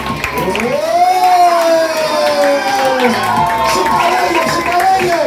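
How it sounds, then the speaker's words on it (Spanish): Crowd cheering, whooping and clapping at a church celebration of an Ngäbe-Buglé community, a lively mix of adult and children's shouts and applause at close range, continuing steadily throughout. "¡Aplauso para usted y con ustedes!"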